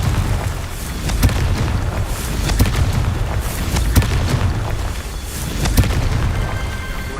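A Confringo blast spell cast repeatedly in the video game Hogwarts Legacy, with several sharp bursts about a second apart that boom loudly over a dense, roaring battle din.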